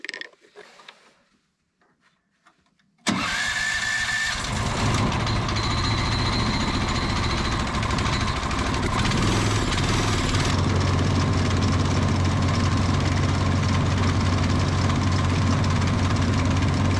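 A small engine with its air filter removed sputters briefly, catches abruptly and settles into a loud, steady, rattling idle up close, with a harsh knocking character and no talking.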